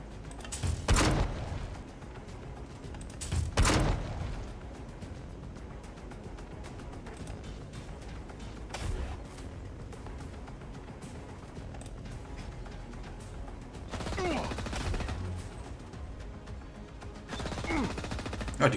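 Cannon fire in the video game Silence of the Siren: heavy booming shots at irregular intervals, a few seconds apart, over a steady dense background of game noise, with a scraping, shifting burst toward the end.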